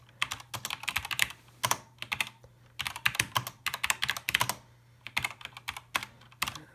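Keys clatter on the keyboard of an SWTPC 6800 computer as a short program is typed in, crisp close clicks arriving in quick irregular bursts separated by brief pauses, with no voices.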